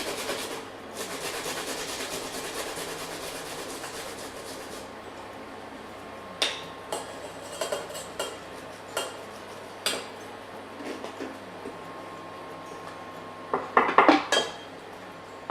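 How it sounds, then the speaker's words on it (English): Unpeeled fresh organic ginger is grated into a pot for dahl with a soft, continuous rasping scrape. Quieter clinks and knocks of a utensil follow, close by, with no talking. "Then I'm going to grate in my ginger."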